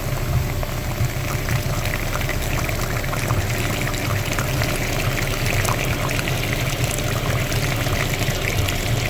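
Dirty coolant pumps out in a steady, unbroken gush of churning, splashing water while the cooling system of a Daewoo Sens is reverse-flushed with the thermostat fully open. The sound stays even throughout and no one speaks.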